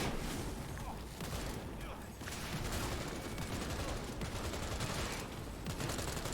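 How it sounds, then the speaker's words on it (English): Rapid bursts of gunfire from the video game Cyberpunk 2077 fill a dense, continuous battle mix, the shots rattling close and loud without pause alongside other combat noise. "looking at those gun effects coming through the doorway there"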